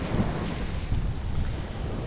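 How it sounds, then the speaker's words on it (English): Winter surf and shore break waves on a Maui beach, heard as a steady, loud wash of breaking water mixed with wind rumble against the microphone, with no talking. "there's some shore brake you have to deal with getting in and out of the water"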